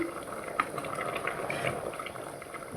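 A pot of ragi mudde (finger millet dough) bubbles on the heat, giving a steady, soft, close bubbling and simmering hiss with small pops and no voices.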